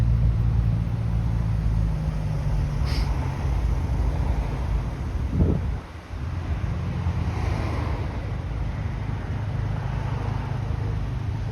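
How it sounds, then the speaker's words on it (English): Steady road traffic near Rogers Road in Toronto, with cars turning left, heard as a broad continuous wash of engine and tyre noise with wind buffeting the microphone, no one speaking. "There's like lots of traffic here."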